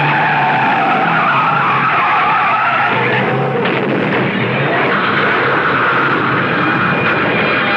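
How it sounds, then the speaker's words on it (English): A car skids as a trailer truck slams into it in a radio drama crash effect, a loud sustained tire skid and roar running nearly eight seconds with a shift midway. "the truck came zooming up on our right"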